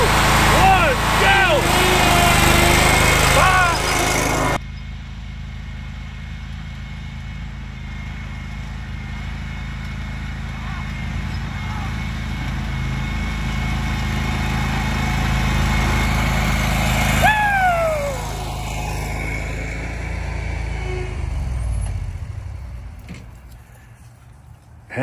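Lawn mower kart engines race, loud and buzzing at first, then a steadier drone with one pitch-sliding pass-by before the noise fades toward the end.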